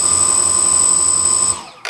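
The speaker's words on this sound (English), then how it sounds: "If you got everything set up properly, down left and down right, we'll activate the motors." Quadcopter motors on a DJI Naza flight controller setup whirring steadily with a high tonal whine, then spinning down and stopping near the end, close and fairly loud.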